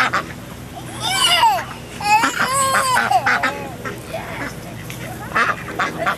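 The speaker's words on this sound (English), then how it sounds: "The ducks sure were hungry." Ducks quacking at a park, several birds calling in bursts close by, with children and adults talking over and between the quacks.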